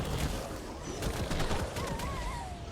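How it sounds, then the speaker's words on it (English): Rapid gunfire in ARK Survival Evolved during a fight with creatures, a quick fusillade of sharp shots in clusters over rumbling combat noise, fairly faint overall. "Shooting into this mess is quite difficult"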